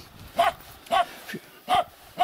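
A dog barks outdoors near a garden, five short, sharp barks at a moderate distance, spaced about half a second apart, with quiet background noise between them.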